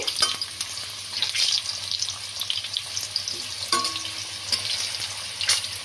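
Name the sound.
potatoes frying in oil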